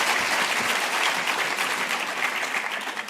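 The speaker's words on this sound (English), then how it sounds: "A round of applause, please." Audience applause fills a conference hall during the high-level opening session of a sustainability and technology gathering, a steady dense wash of many hands clapping that holds loud throughout and eases slightly toward the end.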